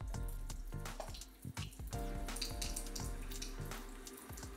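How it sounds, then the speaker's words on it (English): Water runs steadily from a kitchen tap over a peeled boiled egg being rinsed of leftover shell, with a close, continuous splash broken by brief interruptions as the egg moves under the stream. "run it over the water to get all the excess shell off"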